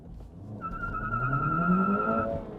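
An Acura Integra Type S hot hatch with traction control partly off launches from a stop, a sustained high tire squeal lasting under two seconds over a rising engine note.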